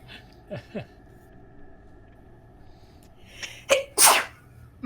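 One sharp, loud sneeze bursts out near the end after a few quieter breaths and small sounds in an otherwise calm room.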